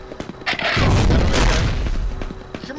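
A rocket launcher blast in the game Quake, a loud booming explosion with a deep rumbling tail lasting over a second, close and prominent amid brief game sound effects.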